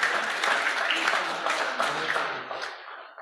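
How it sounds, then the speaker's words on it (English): Applause from the audience at a sailing association's annual general meeting trophy presentation, a full burst of many hands clapping that holds steady, then thins and fades to silence near the end. "So maybe we can just cheer him in his absence."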